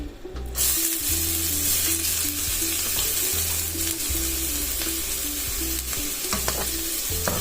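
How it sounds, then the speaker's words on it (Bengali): Chopped green chilies, onion and ginger frying in butter and oil for egg fried rice, a loud close sizzle with stirring scrapes throughout, over a repeating low background hum. "বাটার আর তেল দিয়ে দিচ্ছি কাঁচামরিচ কুচি পেঁয়াজ কুচি আদা কুচি"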